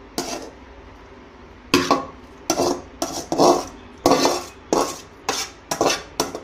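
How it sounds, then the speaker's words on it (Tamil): A spoon stirs egg into kuzhi paniyaram batter in a bowl, with about ten brisk scraping, clinking strokes in an uneven rhythm, close and fairly loud with no talking. "கொட்டிட்டு இதை அப்படியே நல்லா மிக்ஸ் பண்ணி விட்டுருங்க"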